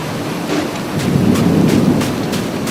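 Thunderstorm in the survival video game Dusty Trip: a steady low rumble of thunder and rain with repeated sharp crackles, sustained and fairly loud throughout.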